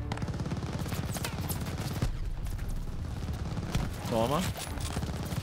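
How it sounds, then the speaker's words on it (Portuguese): Enemy turret gunfire in the Call of Duty: Vanguard video game, sustained rapid shots rattling beneath someone talking, with a few heavier bursts and booms during the game. "esse da torreta aqui tá insuportável, velho"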